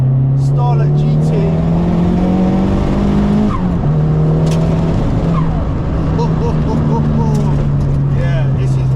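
A big-turbo Toyota Starlet Glanza GT hot hatch makes about 307 bhp, and its engine holds a loud, close, steady drone with a shift-like pitch dip midway. Faint tyre noise sits alongside, and voices can be heard underneath.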